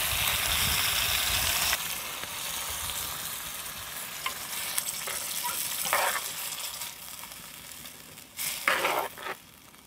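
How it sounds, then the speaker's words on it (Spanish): Beef steak sizzling in a pan as salsa goes in, with a loud hiss at first that settles into steady frying, broken by scraping stirs and short clinks near the end. "Este ya está en su punto la carne. Se le voy a echar la salsa."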